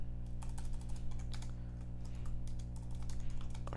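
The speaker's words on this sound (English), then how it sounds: "If I can type it out" Fast, close typing on a computer keyboard produces irregular clusters of crisp key clicks over a low steady hum from the room.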